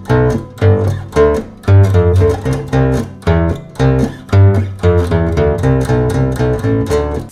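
A balalaika bass, the large Russian folk bass, is plucked with a pick in a steady rhythmic line of deep repeated notes with bright attacks, played alone and up close.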